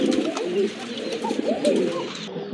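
A pair of pet pigeons, blue barless birds kept for sale, coo continuously at close range, their low throaty rolling calls overlapping through the whole stretch.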